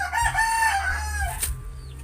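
A seven-year-old McLean Hatch hen gives a close, clear cluck and drawn-out crowing-like call, repeated in a short burst and heard alone.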